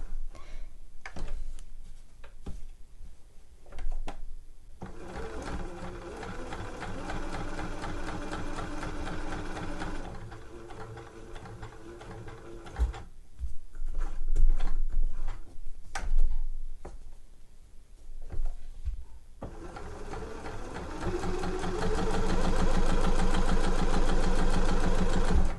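Sewing machine stitching a trouser pocket, its rapid mechanical whirr running in several bursts with short pauses for pivoting between them.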